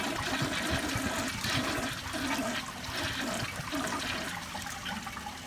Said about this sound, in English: here's a weak flush.